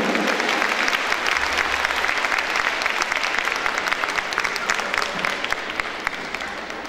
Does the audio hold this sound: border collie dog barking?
no